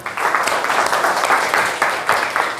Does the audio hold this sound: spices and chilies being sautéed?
no